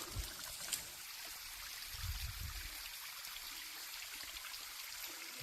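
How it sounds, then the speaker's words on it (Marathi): Mountain stream water flowing through a rocky ravine on the Chondhe Ghat trail near Ghatghar, a steady, close, broadband rush with no voices over it. "मस्त वाहतं पाणी आहे"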